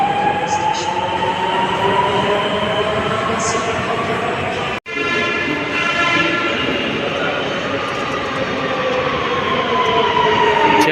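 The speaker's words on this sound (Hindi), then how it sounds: "ये अपनी ट्रेन निकल गई," An RRTS rapid-rail train pulls out of a station with a steady, loud rumble and rising whine of traction motors and wheels, continuous throughout apart from a brief dropout midway.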